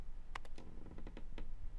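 Typing on a computer keyboard, a close run of crisp individual key clicks in an uneven rhythm, about eight distinct taps with short pauses between, no voices over it.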